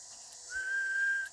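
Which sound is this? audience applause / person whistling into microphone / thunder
person whistling into microphone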